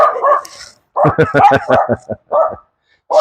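Several dogs, a person's own and the neighbors', bark in quick close bursts, loud and repeated with short gaps, mixed with people talking nearby.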